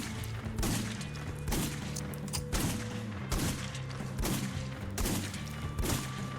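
Steady rhythmic gunfire from a gun in the top-down roguelike shooter Crimsonwood, about one shot every two-thirds of a second, each a punchy burst over a constant game music and ambience bed, with no talking.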